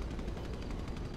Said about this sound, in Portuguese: Quem é que tá dando tiro aí?